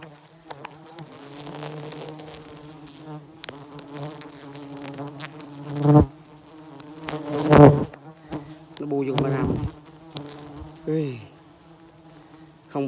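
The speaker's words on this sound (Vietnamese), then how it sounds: "mình phải đứng một chỗ đây một cấp cho ong nó bay ra, nó bay đi hết rồi mình mới về được nhé" Honeybees buzz densely at close range while honey is harvested, a sustained droning hum that swells and fades as the bees fly past the microphone, with bursts of louder rustling and handling noise.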